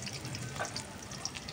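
Onion, garlic and green chilli frying in a pan, a steady soft sizzle with a brief clink of stirring partway through, fairly quiet and close with no voices.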